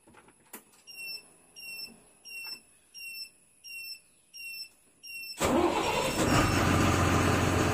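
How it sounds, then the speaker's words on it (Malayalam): An Ashok Leyland Viking AE coach, a Kerala private bus, sits quiet under a repeating chirping sound, then its diesel engine cranks and catches with a sudden loud roar and settles into a steady, close, heavy idle. "നമുക്കതൊന്ന് സ്റ്റാർട്ട് ചെയ്തിട്ട് ഇതിൻ്റെ സൗണ്ടും കാര്യങ്ങളൊക്കെ ഒന്ന് ചെക്ക് ചെയ്യട്ടാ."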